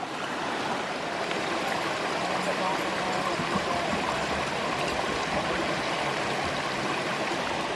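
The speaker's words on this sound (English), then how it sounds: "it's just a series of little waterfalls is all it is" A woodland stream runs over a series of small waterfalls among moss-covered trees, giving a steady, close rushing and splashing wash that holds even and unbroken throughout.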